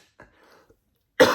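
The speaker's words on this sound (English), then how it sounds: "sorry, I need a cough." A single short, sharp cough bursts out near the end, loud and close, following a moment of near silence with faint soft sounds.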